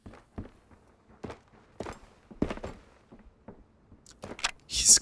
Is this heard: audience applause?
no